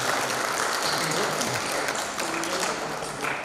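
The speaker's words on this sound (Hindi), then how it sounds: "एक बार उनका भी तालियों से स्वागत करना।" Audience applause welcoming a guest at an International Yoga Day event, heard as a continuous wash of many hands clapping at once, loud and close, with some voices mixed in underneath.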